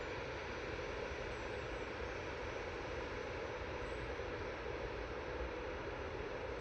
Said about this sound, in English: But another EasyJet making its way over towards us.